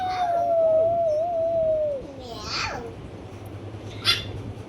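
A child imitates a cat with one long, drawn-out meow lasting about two seconds, followed by quieter vocal sounds and a brief sharp noise near the end.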